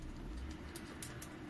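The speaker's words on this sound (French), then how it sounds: "Oui, madame la tourterelle, là. Oui, madame la tourterelle." Turtle dove cooing nearby, soft low hooting notes over a muffled background, a few faint higher clicks mixed in, no speech.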